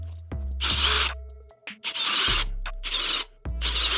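A power drill whines in repeated bursts while drilling a part for a 2022 Kawasaki Z900 motorcycle, revving up and cutting off several times, loud and close with brief pauses.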